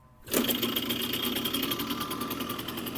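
An old moped engine catches after a brief quiet start, then settles into a fast, steady, rattling putter that carries on close and alone.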